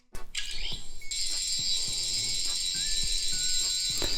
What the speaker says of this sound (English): there's the normal sound effect with the on and off kind of clicking sound that they've added for the past few releases